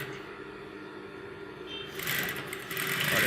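A sewing machine runs steadily while stitching a kanchli blouse, a close continuous whirring drone that grows slightly louder and busier partway through.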